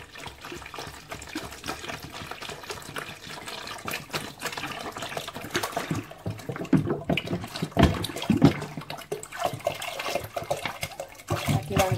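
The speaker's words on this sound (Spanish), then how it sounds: "vamos a necesitar llenar en el cubo 2 litros y medio de agua" Water pours steadily into a bucket, about two and a half litres, a continuous splashing rush that swells and gurgles toward the end, close by with no talking.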